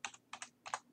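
Quick bursts of typing on a computer keyboard as a mail server address is entered, about six close, crisp key clicks in three pairs, quiet and with no talking.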